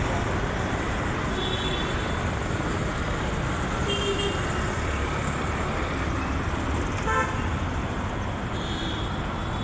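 Traffic rumbles past on a busy road, a dense continuous roar of cars and buses with occasional short horn toots, close and loud throughout.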